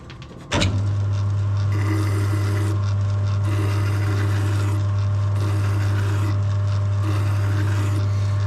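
A belt sander works a flat metal disc into a bearing cover for a custom bike, with a steady motor hum under repeated rasping passes of grit against metal that swell and fade.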